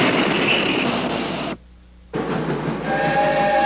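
Train running on rails, a loud continuous rumble and rail noise with whistle-like tones, cut by a short silent gap before the rolling clatter returns, with no talk.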